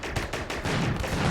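Gunfire at a uranium slug turret in the RimWorld video game: a rapid burst of close, repeated shots blurring into continuous firing, no talking.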